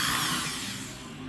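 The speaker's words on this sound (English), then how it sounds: "Go ahead and start drilling" A drill fitted with a 1/8 inch bit bores a pilot hole, giving a brief close whirring that fades as the bit breaks through.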